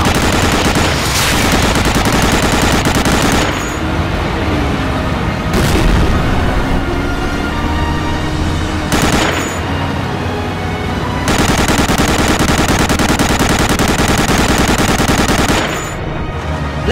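Dense, loud gunfire and heavy booms roar almost nonstop through a strafing run in Medal of Honor: Allied Assault, with a few short dips between bursts.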